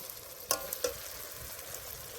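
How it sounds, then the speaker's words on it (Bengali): Potatoes frying in mutton fat in a pan, a faint steady sizzle with two short clinks of stirring near the start, heard close and alone. "আলু আর খাসির তেল দিয়ে ভালো করে কষে নিয়েছি"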